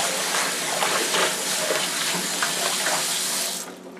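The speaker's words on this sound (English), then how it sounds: "to put a little bit more water in here" Tap water runs steadily into a container at an outdoor garden spot where Swiss chard grows, a close, continuous splashing gush that stops just before the end.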